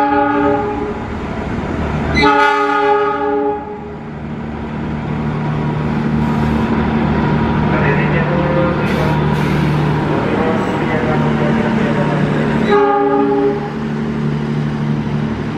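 The Argo Sindoro Jakarta–Semarang executive-class train passes through a busy Jakarta station at night, with two loud, sustained multi-tone horn blasts bracketing a continuous heavy rumble of wheels close by.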